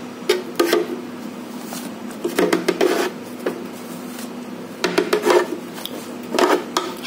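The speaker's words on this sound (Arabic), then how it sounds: "هنجيب الايس كريم بتاعنا الفانيليا وهنحطه في الخلاط" Vanilla ice cream is scooped into a blender, with repeated scraping and rubbing strokes of a scoop against a container and occasional light clinks of utensils, close and fairly loud.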